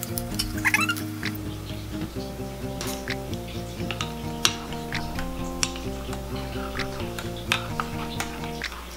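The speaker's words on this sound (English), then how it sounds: "Let me stir it again." A spoon stirs Oreo hot cocoa mix in a mug, giving light, rhythmic clinks and scraping taps against a steady background of music, fairly close and moderately loud.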